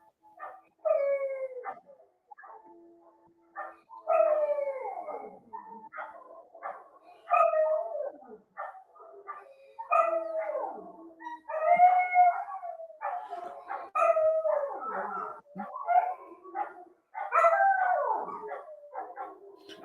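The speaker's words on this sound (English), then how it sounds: "Please excuse the dogs there." Several dogs bark and howl nearby in repeated bursts of drawn-out, wavering howls mixed with yelps, rising and falling for the whole stretch with short pauses between outbursts.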